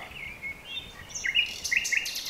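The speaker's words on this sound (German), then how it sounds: "Das ist, glaube ich, nur ein ganz kleiner Vogel." Several small birds chirp in short, high tweets, the calls clustering toward the end over quiet background noise.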